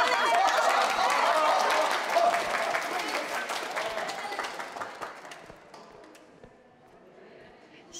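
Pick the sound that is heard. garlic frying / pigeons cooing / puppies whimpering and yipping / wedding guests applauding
wedding guests applauding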